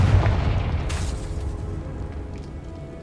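Confringo blasting spell from Hogwarts Legacy detonating in a dim tomb, a heavy booming explosion that hits at once, then a brief sharp burst and a long rumbling decay that fades over a few seconds.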